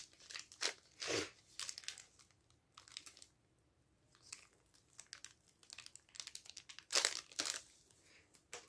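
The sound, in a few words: plastic wrap crinkling as it is removed from a Blythe doll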